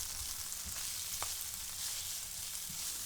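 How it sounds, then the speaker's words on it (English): Chopped onions sauté in hot olive oil in a pan, making a constant close sizzle with faint stirring scrapes underneath. The sound stays at a steady level throughout. "And we're just going to saute them real good."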